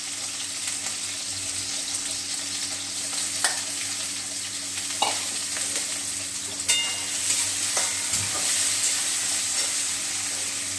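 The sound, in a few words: potatoes frying and being stirred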